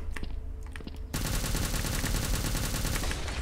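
Rapid machine gun fire from the Vietnamese online shooter game Truy Kích: after a short quieter stretch of scattered shots, a dense, continuous burst of automatic fire starts abruptly and runs loud and unbroken to the end.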